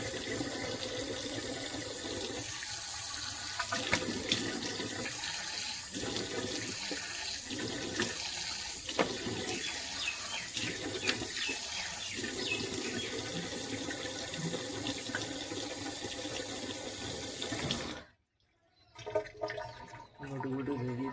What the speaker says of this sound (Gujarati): મોટું ધોઈ દીધું. હવે ઊંઘ ઉડી જાય.